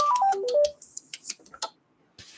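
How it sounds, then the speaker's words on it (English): A mobile phone goes off with a quick run of stepped electronic tones, followed by several short sharp clicks and taps, then a brief rustle near the end; no talking. "dumb phone keeps going off"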